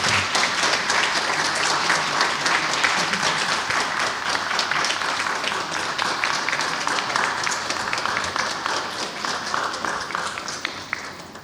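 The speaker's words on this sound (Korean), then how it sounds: "예, 박수 하시겠습니다." An audience claps at a church pastor installation ceremony, with dense, sustained applause that holds steady before thinning toward the end.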